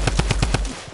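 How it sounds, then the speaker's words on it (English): Rapid automatic gunfire in a shooter video game, with about five sharp bursts in quick, regular succession up close and loud, before it cuts off into quieter game noise. "I just got shot at."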